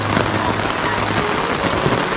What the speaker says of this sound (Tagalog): Ang lakas pa talaga ng ulan, hindi pa natila.